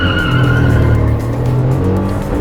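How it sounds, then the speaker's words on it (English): A Suzuki S-Presso budget hatchback launches hard off the line at a quarter-mile drag race, its engine revving loud and close with a strained, steady roar that dips briefly as it pulls away. "aggressive start from the S-Presso"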